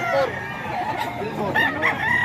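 A rooster crows at a busy market, its call rising clearly over crowd noise and nearby haggling voices.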